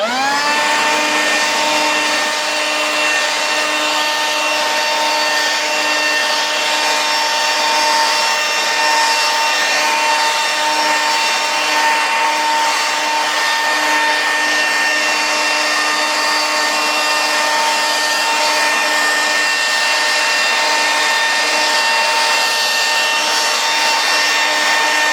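A Makita leaf blower spools up and runs continuously at high speed, producing a loud, steady whine with a strong constant airflow roar throughout.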